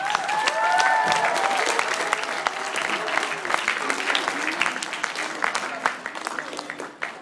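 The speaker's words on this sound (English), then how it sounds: "give them all one more big round of applause." Sustained applause from a crowd, steady clapping filling the whole stretch, with a few cheers and whistles early on before it gradually thins out.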